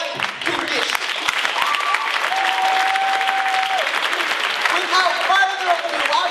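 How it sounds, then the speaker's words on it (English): Steady applause from a crowd fills the whole stretch, with scattered clapping texture and a few whistles or voices cutting through. "the JFK Eagles want to give you a rousing applause"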